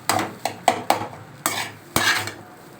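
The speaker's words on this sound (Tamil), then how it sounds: "நல்லா கிளறி விட்டுக்கோங்க." A metal spoon scrapes and clinks against a pan while egg rice is stirred, six or seven sharp strokes at an uneven rhythm with a faint sizzle beneath, close and clear.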